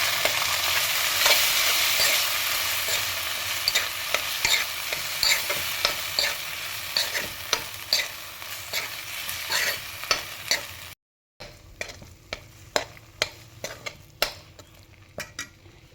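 Grated raw mango with garlic and curry leaves being stirred and fried in a pan, a sizzling hiss under repeated scraping strokes of a spoon, close and steady, with a brief gap before stirring resumes.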